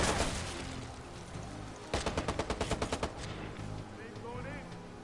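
A burst of rapid automatic gunfire in the video game Watch Dogs, a quick string of about ten sharp evenly spaced shots over layered game music and effects, with a short scattered volley before it.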